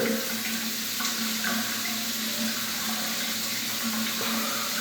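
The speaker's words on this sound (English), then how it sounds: "I usually just rinse it with water again" Water runs steadily over a freshly shaved head during rinsing, a continuous close hiss and splash with faint knocks, like a tap running into a sink.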